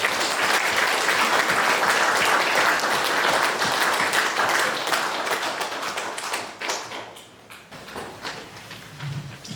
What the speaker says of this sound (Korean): 열창한 이시원님께 다시 한번 힘찬 박수를 부탁드립니다.